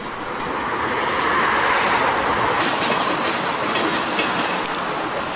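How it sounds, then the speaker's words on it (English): A CSX freight train roars steadily past up close, its wheels clattering rhythmically over a rail diamond crossing beneath a loud, continuous rumble. "We are currently seeing the CSX freight going over the former ACL Lineville sub and the L&N's SNNA sub."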